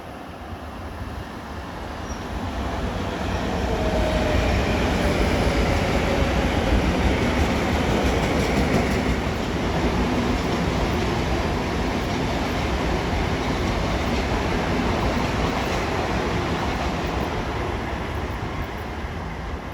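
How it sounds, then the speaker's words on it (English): An LIRR M9 electric train, number 2058, eastbound from New York to Ronkonkoma, passing Kew Gardens at speed: a loud, steady rush of wheels and motors that builds in the first few seconds and holds, with no talk. "And approaching eastbound at 412 is train 2058 from New York to Ronkonkoma"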